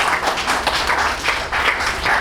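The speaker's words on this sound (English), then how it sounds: "Give her a big round of applause." Guests at a 75th birthday celebration break into steady, close, dense clapping for a mother, continuous across the whole short stretch.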